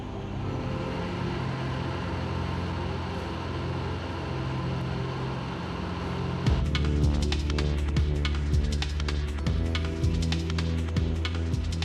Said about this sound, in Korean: 박 반장 홀로 진공 청소기를 돌리고 있다